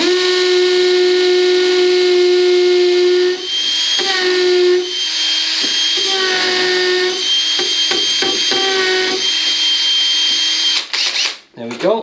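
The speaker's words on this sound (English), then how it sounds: "Now I've just put it to hammer action. Now I've started the hole." Hammer drill boring into an old brick wall, a loud sustained whine with a steady pitched tone, running in several long bursts separated by brief pauses, close up and alone.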